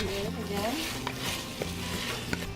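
Garlic, onions, ginger and pepper being stirred in a hot pan for laing, with a steady sizzle and light scraping strokes, close and moderately loud, while a voice talks briefly over it.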